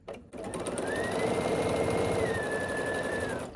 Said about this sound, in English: And sew across here with a 1/4 inch.